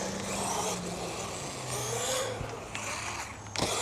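Brushless motor of a 1/16-scale RC truck revving at full throttle, a close, steady whining drive with surging bursts and mechanical rattle throughout.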